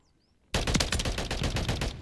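Holger 556 automatic rifle fire in Modern Warfare 3, a loud, rapid, sustained burst of closely spaced shots starting abruptly after a brief quiet lead-in and running steadily to the end.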